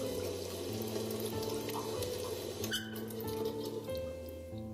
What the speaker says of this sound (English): I washed my hands with freezing cold water, letting the chill seep into my bones